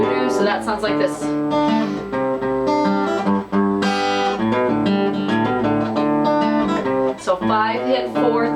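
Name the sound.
guitar strum and slap pattern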